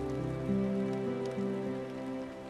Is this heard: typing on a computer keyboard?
no